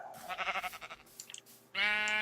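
Sheep bleating in Minecraft with the Tekkit mod pack: a wavering, throaty bleat, a few quieter clicky noises, then a second loud, sustained bleat that cuts in sharply near the end.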